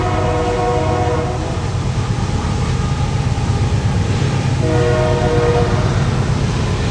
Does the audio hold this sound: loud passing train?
yes